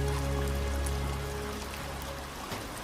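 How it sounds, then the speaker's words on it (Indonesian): Rain falling at sea on someone stranded, a steady hiss and patter with a low constant rumble underneath, alone and fairly even throughout. "Lalu hujan datang menghampiri Mia."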